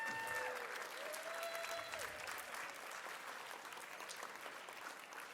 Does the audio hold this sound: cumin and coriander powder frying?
no